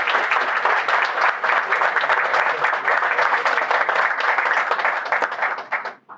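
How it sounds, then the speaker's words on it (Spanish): Audience applause at a Dominican solidarity-with-Cuba gathering: steady, dense clapping from a crowd, sustained for several seconds before quickly fading out at the end. "para el cual pedimos un fuerte aplauso"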